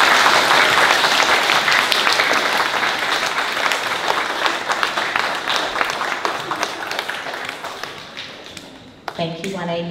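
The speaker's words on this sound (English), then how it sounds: "Let's give them a great big clap." Audience clapping at a primary school presentation day, many hands in a dense steady burst that slowly thins, ending abruptly as a voice starts speaking.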